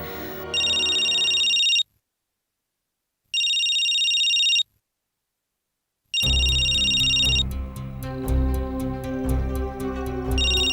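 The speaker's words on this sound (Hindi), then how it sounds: "मैं राकेश को फोन करती हूँ" A telephone rings in repeated electronic bursts separated by silence, then a last ring merges into music and background noise.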